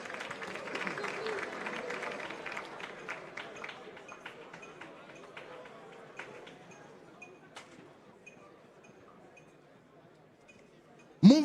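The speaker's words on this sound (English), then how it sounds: "A round of applause, a round of applause." An audience at the NSMQ 2025 grand finale, a Ghanaian school quiz contest, claps in a dense, crackling round of applause that starts strong and steadily fades to scattered claps, ending in a sudden loud burst.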